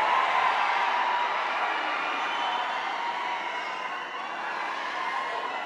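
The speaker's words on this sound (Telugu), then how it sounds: "గట్టిగా చప్పట్లు." A large crowd of fans at a Pushpa film event with Allu Arjun and Allu Sirish roars and cheers in a dense, continuous wash of noise. It stays loud and steady throughout.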